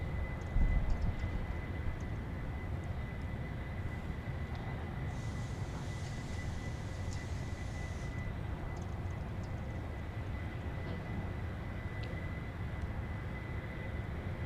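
Flight 629, a bright yellow airliner approaching Dallas Love Field, gives a steady, distant jet engine rumble that holds at an even level throughout, with a faint higher whine briefly rising midway and no talking.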